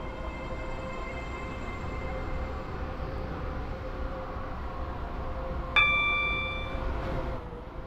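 A Roblox SCR train rolls into a station with a steady, loud rumble, and a bright chime rings out near the end.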